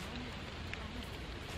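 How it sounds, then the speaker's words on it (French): Steady rain falls outside, a faint, even hiss with scattered soft patters, continuous and distant, with no voices. "Les gars, il pleut."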